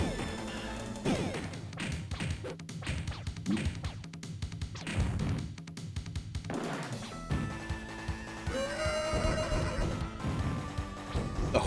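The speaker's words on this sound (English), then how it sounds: "The horse sound is so bad." Horse neigh sound effect from the arcade game TMNT Turtles in Time: a whinnying call over game music with thuds and crashes, repeated neighs and clip-clop hoofbeats mixed into the busy soundtrack.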